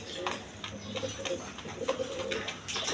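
American Lakkha pigeons at a pigeon dealer's coop coo continuously, with low, soft, overlapping calls close by and a light ambient murmur underneath.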